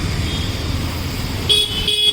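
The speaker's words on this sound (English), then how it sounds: "These are the buses." Buses and other traffic honking on a flooded road in Mumbai during monsoon rain, with a steady traffic rumble and two clear horn blasts near the end.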